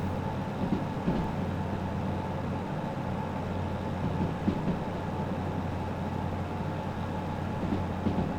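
A train hauling a combination of cars climbs uphill in Derail Valley, giving off a steady, droning engine rumble with faint rhythmic clatter, continuous and moderately loud, without speech.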